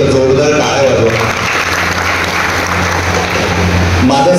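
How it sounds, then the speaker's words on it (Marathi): Audience applauding at a school scholarship distribution ceremony in Sindhudurg: a dense, steady wash of clapping filling the whole stretch, with a low musical or voice-like hum running beneath it. "त्याच्यासाठी एकदा जोरदार टाळ्या वाजवा."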